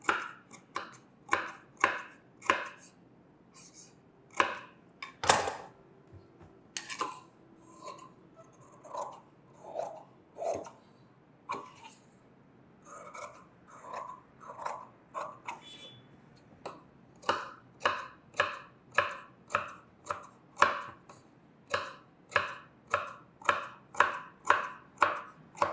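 Scissors cut through blouse fabric in a long run of crisp snips, sharp regular strokes close by with a brief pause midway before a fast steady series resumes.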